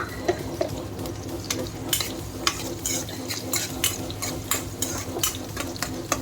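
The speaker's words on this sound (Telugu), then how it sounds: "కొన్ని తాలింపు గింజలు ఇప్పుడు వేగిపోతాయండి" Onions and tempering seeds frying in oil, a close sizzle under repeated sharp clinks and scrapes of a spoon stirring against the pan.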